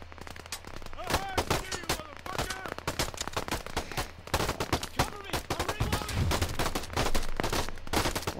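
Dense close-range gunfire in a military shooter game, with rapid automatic bursts and single shots crackling loudly and almost without pause, under excited shouted voices.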